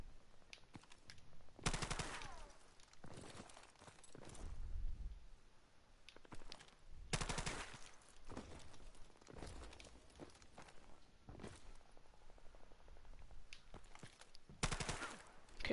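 Bursts of the Scorpion weapon firing in the shooter game Strafe, rapid automatic volleys in several loud separate spurts across the stretch, with softer in-game footsteps and movement between them.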